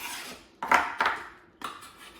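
Chopped onions dropped into a bowl in a home kitchen make three short clattering knocks and scrapes, close and moderately loud, with no talking.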